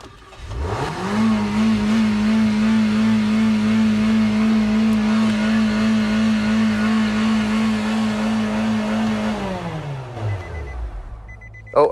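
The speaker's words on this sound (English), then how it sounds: "fire the car up, sounds like it's gonna go 100 miles an hour" A Ford Mustang engine revs up hard while parked with the brake held, holding a loud, steady high-rpm roar for several seconds before dropping back toward idle, close and without talk.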